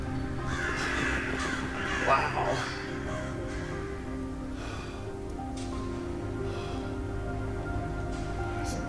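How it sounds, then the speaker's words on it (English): Crows cawing in an Oculus Quest 2 virtual reality game, several calls scattered over a steady background wash, with a brief exclamation from a person partway through. "Oh, look at these crows."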